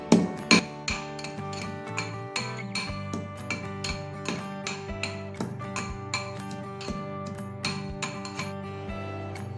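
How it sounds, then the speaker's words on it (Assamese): Steady rhythmic pounding of a pestle crushing garlic and hot chillies in a mortar, with sharp, evenly spaced knocks and a faint ringing between strikes. "নহৰু খুন্দিছোঁ, নহৰু আৰু জলকীয়া।"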